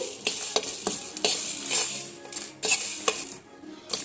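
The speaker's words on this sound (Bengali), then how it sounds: "ঢেলে দিয়ে একদম মিডিয়াম আঁচে দিয়ে সুন্দর করে একটু মশলাগুলো ভেজে নিচ্ছি" Whole spices are dry-roasted in a kadai over medium heat for a Bengali rohu fish curry with flat beans and potato, the spatula clinking and scraping against the metal in irregular strokes, close and fairly loud.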